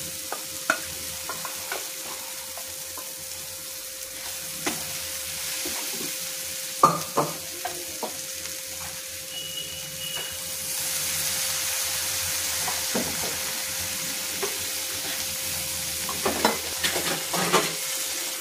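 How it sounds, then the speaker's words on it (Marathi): Whole masoor lentils stirring and frying in a pan for a Kolhapuri dish, a soft steady sizzle with intermittent scraping stirs and clinks, growing a little louder and hissier toward the end, with no voices. "आता अख्खा मसूर त्याच्यात आपण घालून घेऊया"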